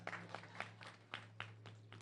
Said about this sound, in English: Can you congratulate yourselves with a hearty clap?